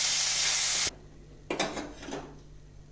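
Dried hilsa fish fries lightly in a pan, a bright hiss that cuts off abruptly, then softer sizzling with clinks of stirring close by.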